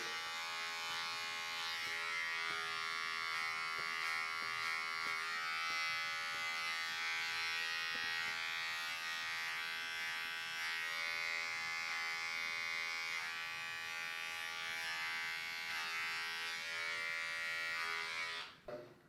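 Electric trimmer buzzing while shaving goatee facial hair with no guard, a steady close-up motorized hum with harmonic whine lasting the whole time and cutting off at the end, no talk.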